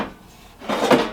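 Bottom drawer of a COSORI Turbo Tower Pro stacked air fryer sliding open, a short close scraping clunk after a quiet moment, heard alone.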